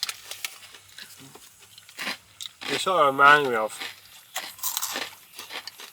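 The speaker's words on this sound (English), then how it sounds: "That's a very satisfying crunch." A crunchy cheesy snack, square-shaped, is bitten and chewed close to the mic, giving short crisp crunches mixed in with steady conversational talk.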